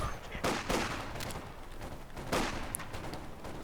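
Machine gun bursts in Company of Heroes 2 crack out in two distinct volleys about two seconds apart, sharp and fairly close over a low battlefield background.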